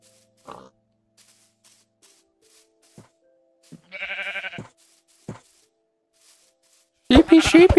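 A sheep in Minecraft gives a short bleat in the middle, with a louder, harsher call at the end, amid sparse quiet noises and long silent gaps.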